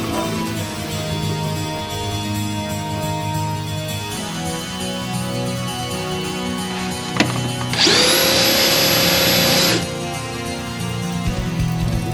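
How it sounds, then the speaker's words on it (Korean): An electric drain auger works to clear a clogged drain pipe in an apartment after plumbing renovation, its steady motor whine rising sharply and loudly for about two seconds over a continuous mechanical drone, close by. "불을 켜면서 전동 스푼으로 뚫는 작업을 한번 해보겠습니다"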